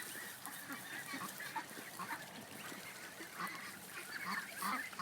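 A flock of waterfowl calls outdoors, a faint, continuous chorus of overlapping honking quacks at a distance.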